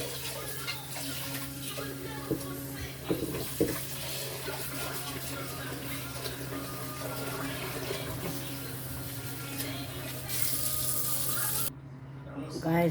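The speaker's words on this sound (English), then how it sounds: "I'm going to wash it now. Washing the rice" Rice is washed in water at a kitchen sink, with a tap running and grains swishing and clinking in a bowl, a steady close wash with a few sharper knocks.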